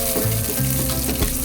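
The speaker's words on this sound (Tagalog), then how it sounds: "Igisa na natin ang bawang." Garlic sautéing in cooking oil for pakbet, a loud close steady sizzle and crackle filling the pan with faint stirring clinks, no voices over it.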